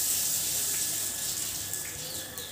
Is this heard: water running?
yes